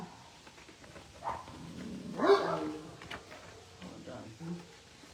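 Dogs on a farm bark when a donkey harasses them: a few scattered yips and barks, fairly faint and distant, with a stronger bark near the middle and quiet voices in the background.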